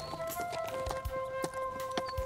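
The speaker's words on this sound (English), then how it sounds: "He borrows a horse and rides up to find Ollie" A ridden horse's hooves clip-clop in a steady, evenly spaced rhythm, crisp and close, over a sustained musical tone in an animated story.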